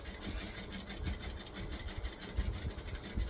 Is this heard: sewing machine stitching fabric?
yes